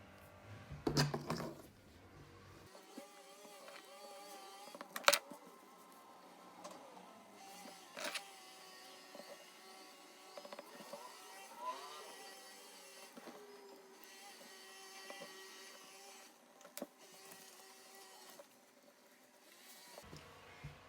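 A sewing machine whirs in short stitching bursts with pauses between them as a fabric mask is sewn, the running motor fairly quiet and close, with faint mechanical clicks.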